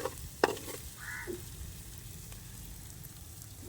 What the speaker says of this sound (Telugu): కారం కలిపి పెట్టుకున్న ముక్కలు వేసుకోవాలి